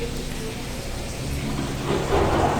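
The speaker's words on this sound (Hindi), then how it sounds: "क्लाउड में गरज हो रही है, लाइटनिंग हो रही है।" Simulated rain and thunder effect at an indoor venue show, a steady wash of rain-like hiss with low rumbling that swells louder toward the end, no voices over it.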